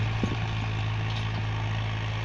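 A farm tractor idles with its engine not yet warmed up, giving a steady, loud low drone with a constant hum and no change in revs, close by and without talk.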